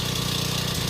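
A Predator 301cc small engine, recently found with rust and water in its carb bowl and water in its oil, idles close by with a steady, even, throbbing putter.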